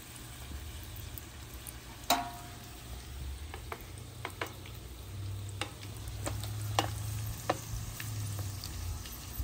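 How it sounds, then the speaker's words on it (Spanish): Folded chimichangas frying in oil give a soft, steady bubbling sizzle under a low background hum, with scattered clicks and sharp pops, one louder knock near the start. "vamos a empezar a poner con el doblez para abajo para que se empiecen a freír las chimichangas."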